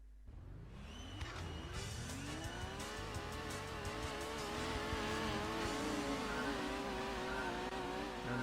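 Race car engine from the Gran Turismo 2 video game (PAL), a lightweight K-class car with a turbo, revving and climbing steadily through the gears, loud and continuous with faint tire squeal, no talking.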